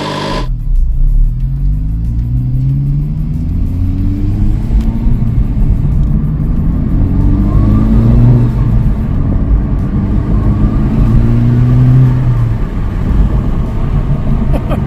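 A Honda FL5 Civic Type R engine fitted with a PRL titanium intake inlet revs up repeatedly, a deep loud rumble that rises and falls through several throttle blips after a sharp start, heard close with no talking.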